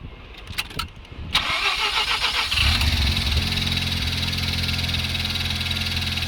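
A Mazda FD RX-7 rotary engine, fitted with new spark plugs and plug wires, cranks with a few clicks and whirs, then fires on the first try and settles into a loud, steady, buzzing idle close by.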